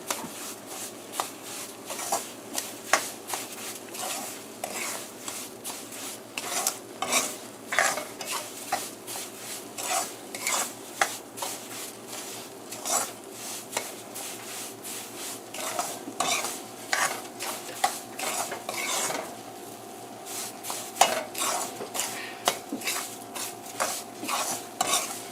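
Cream of wheat is stirred in a pot on a stove at medium heat, with rhythmic scraping strokes of a spoon against the pot repeating steadily over a soft background sizzle, close and with no talking.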